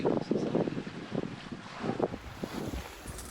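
A steady northeasterly wind buffets a sailboat under way, with gusty rumbling wind noise against the microphone and faint water sounds, no talk.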